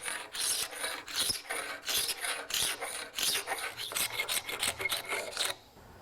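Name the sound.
fine metal file sharpening a wood scraper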